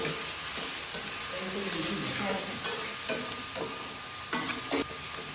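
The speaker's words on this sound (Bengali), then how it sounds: "রসুনের সাথে ভালো করে একটু কষিয়ে নিচ্ছি যাতে রসুনের কাঁচা গন্ধটা চলে যায়" Garlic paste sautéed in a pan for a Bengali river pangas fish and eggplant curry: a close, steady sizzle with spatula scrapes and stirring, plus a faint voice at times.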